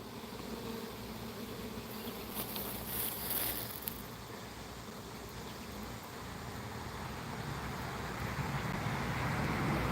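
Honey bees buzz around a bottle, a steady outdoor insect drone that carries on throughout, joined by brief rustling bursts early on and some wind.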